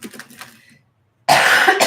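A person coughs, with a few soft throat sounds first, then a pause and a loud, harsh cough burst close to the microphone.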